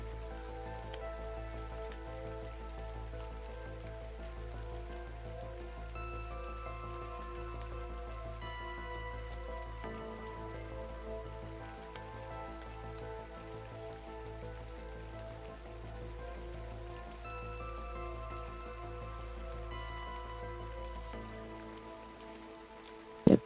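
Steady rain pattering in the video game Ark, a soft continuous wash under a looping musical backdrop with sustained tones, ending with a brief louder burst.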